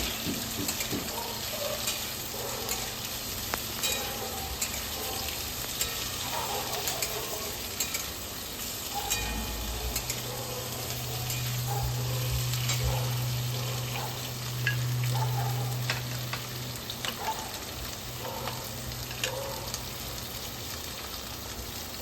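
Paneer curry ingredients stirred in a frying pan, a steady sizzle with scraping and stirring throughout, and a low hum swelling through the middle.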